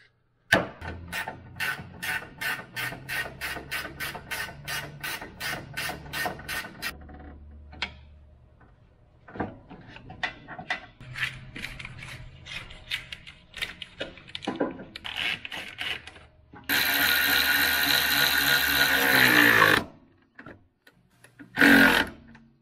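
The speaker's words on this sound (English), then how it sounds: "So I just take this nut out right here, this bolt, and I'll put one of my loops." A nut and bolt are worked loose on a truck, with rapid, evenly spaced metallic ratchet-like clicks at close range. Scattered tool clatter follows, then a loud, harsh burst of hissing noise lasting about three seconds.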